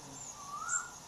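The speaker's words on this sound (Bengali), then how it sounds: "কোকিলের ডাক" An Asian koel calls faintly in the distance in the early morning near a lychee tree, its single rising whistle clear above a quiet background.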